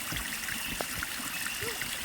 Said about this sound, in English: The rocks that create a small waterfall effect, which I'm going to show down here.